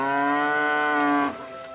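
A cow in a field lets out a single long, tonal moo that holds steady for over a second and then cuts off, loud and close.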